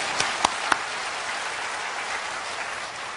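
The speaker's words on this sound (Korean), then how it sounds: "하나님께 영광의 박수 올리겠습니다" Congregation applause at a Korean church testimony service, a steady wash of many hands clapping together at moderate level, with a few sharper individual claps standing out near the start.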